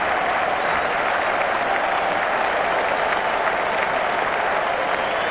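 A cricket crowd at an India match applauds steadily, a dense wash of clapping that holds at an even level from start to finish.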